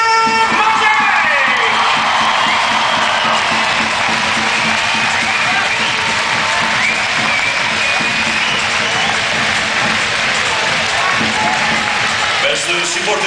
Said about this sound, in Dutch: uw applaus voor Nonneke Matthij!